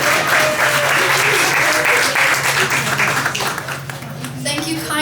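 Audience clapping at a poetry reading, loud close applause filling a room, with voices rising over it toward the end.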